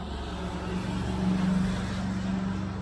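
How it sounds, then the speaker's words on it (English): A loud truck rumbles past nearby, a low heavy engine drone that swells briefly in the middle and then eases, with no talking. "Thank you, loud truck."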